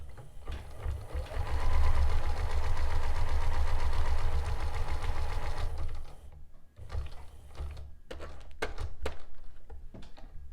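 Sewing machine stitching flat lace to a fabric header thread, running in a fast, dense mechanical whir for several seconds, then stopping into quieter separate clicks and taps as the fabric is pivoted.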